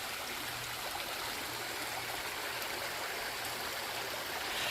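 Grove Run, a small woodland stream in Linn Run State Park, Pennsylvania, flows steadily with a constant close rushing and babbling wash and no voices.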